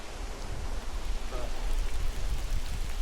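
Steady rain falling over a forested rural property, a continuous broadband patter with no distinct drops standing out.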